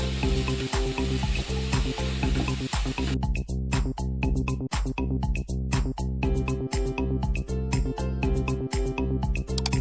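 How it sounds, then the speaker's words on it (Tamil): Onions sautéing in a pan for Tamil-style egg masala, a loud, steady sizzle that runs throughout, broken by regular scraping stirs of the spatula. "வெங்காயம் நல்லா கோல்டன் கலருக்கு முன்னாடி ஸ்டேஜ் வரைக்கும் நல்லா வதங்கணும்"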